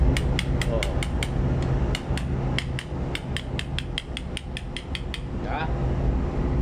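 Tapping with a small hammer, a quick run of sharp metallic taps in uneven bursts over a constant loud mechanical rumble, pausing briefly before a few final strikes.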